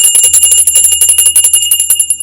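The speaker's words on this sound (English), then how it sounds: "Wait, I like this bell better." A higher-pitched bell rings in a rapid, continuous trill, loud and close, with a bright metallic shimmer that sustains throughout without any talking.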